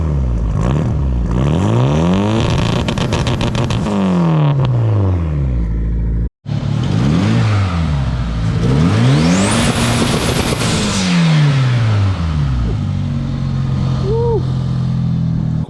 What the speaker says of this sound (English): he's gonna give us a couple revs